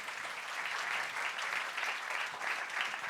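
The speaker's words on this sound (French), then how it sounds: "Bravo, vous pouvez les applaudir." Audience at a French communications awards ceremony applauding the winning teams, a sustained, even wash of clapping from a sizeable crowd.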